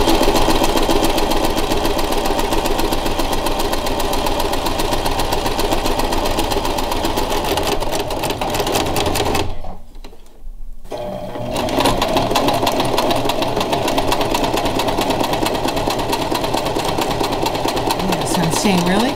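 A sewing machine stitches a seam close to the edge of fabric, whirring in a fast continuous rattle that stops briefly near the middle and then resumes, with a person talking over it.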